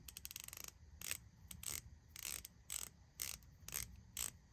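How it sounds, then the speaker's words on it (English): A cleaned and freshly oiled palm-grip ratchet clicks in a series of short bursts, each a quick run of fine metallic pawl clicks, loud and close with brief pauses between bursts and no talking. "That is about the smoothest ratcheting mechanism I have."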